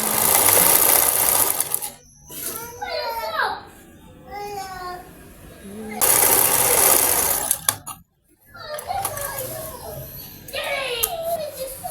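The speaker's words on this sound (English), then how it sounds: "So I will start sewing," Domestic sewing machine stitching a cotton shirt gown, its rapid mechanical chatter running in loud bursts with short pauses between seams, while children babble and talk in the background.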